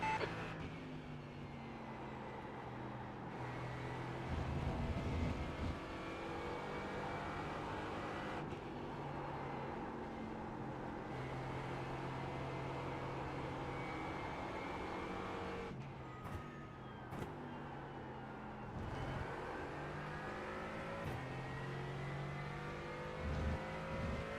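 Sports race car engines in a sim racing game at Fuji, with a continuous close engine drone that rises and falls through gear changes and shifting revs, and occasional sharp transients, at moderate loudness throughout.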